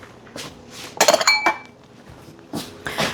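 Chocolate lava cake batter being moved into a microwavable container, with bright clinks and knocks of a utensil against glass or ceramic dishware, one cluster of sharp taps in the middle and softer scraping around it.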